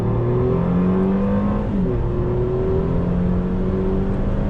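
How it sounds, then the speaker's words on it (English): 2020 Mercedes-Benz E450 coupe accelerating hard in first gear with paddle shifters, engine note rising loud and steady from inside the car, with no talk. "So on throttle, first gear."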